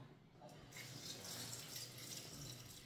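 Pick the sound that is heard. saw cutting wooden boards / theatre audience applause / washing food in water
washing food in water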